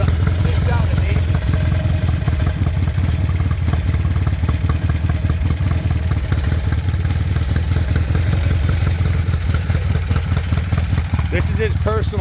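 A Norville 920 Norton Commando motorcycle fitted with Dunstall exhausts runs steadily close by, its loud, throbbing idle lasting throughout with a faint voice underneath.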